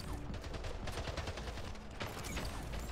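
Rapid gunfire from a battle rifle in a first-person shooter game, a steady run of quick repeated shots with no pause across the stretch, fairly quiet and continuous.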